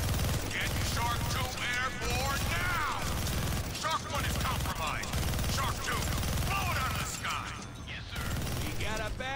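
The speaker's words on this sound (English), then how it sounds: "Oh, holy shit, look at the explosions." Big gun firing and explosions in the Deadpool video game, a continuous loud barrage of rapid gunfire and mechanical clatter with booming blasts running the whole time, dense and close.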